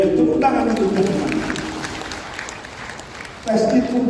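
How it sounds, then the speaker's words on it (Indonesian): Graduation ceremony audience clapping, a moderate wash of applause under a speaker's amplified voice, fading in the middle before voices return louder. "Tepuk tangan untuk mereka."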